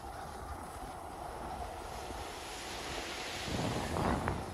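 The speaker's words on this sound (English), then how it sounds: "Love the sound of those waves." Ocean waves wash onto Coney Island beach in New York City, a continuous broad rushing surf with wind noise that swells slightly louder toward the end, no voices.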